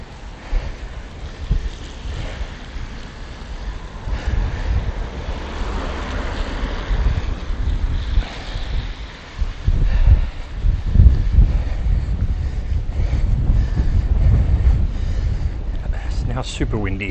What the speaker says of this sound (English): Now super windy.